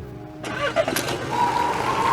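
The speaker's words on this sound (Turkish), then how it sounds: "Çalıştır arabayı" A car engine cranks and catches around half a second in, then settles into a steady idle, fairly close, after a quiet stretch with a faint alarm-like tone.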